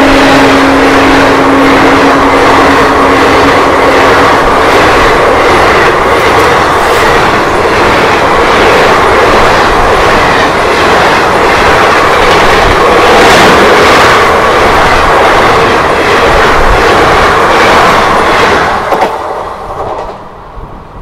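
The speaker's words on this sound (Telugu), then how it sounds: "12703 ఫలక్నుమా సూపర్ ఫాస్ట్ వస్తున్నది." The 12703 Falaknuma Superfast Express, hauled by a WAP-4 locomotive with new red LHB coaches on its Secunderabad–Howrah run, rolls loudly into the station with a steady rumble and rhythmic wheel clatter that fades in the last seconds.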